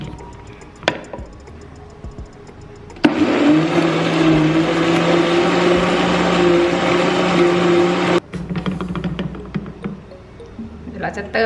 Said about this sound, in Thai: แล้วก็ทำการปั่นเลยค่ะ